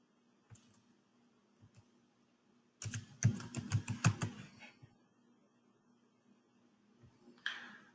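Typing on a computer keyboard: a few scattered key taps, then a quick burst of rapid clicks lasting about a second and a half, and a final tap, close and moderately loud in a quiet room.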